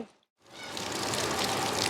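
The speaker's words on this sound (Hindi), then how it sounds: "ये मसनूई बारिश होती है तो स्पीकर भी लगाए हुए हैं" Artificial rain from garden sprinklers pours down as a steady, close, broadband hiss of falling water that swells in after a brief silence and continues evenly.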